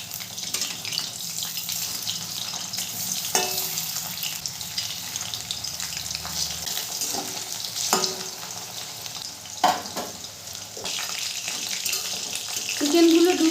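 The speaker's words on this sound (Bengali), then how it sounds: "গ্যাসের ফ্লেমটাকে মিডিয়ামে রেখে চিকেনের পিসগুলোকে আমি ভেজে নেব।" Chicken pieces fry in oil in a pan over a medium gas flame, a steady sizzle with occasional clinks and stirring sounds and faint talk in the background.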